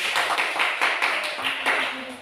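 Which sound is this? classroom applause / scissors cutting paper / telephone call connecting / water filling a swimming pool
classroom applause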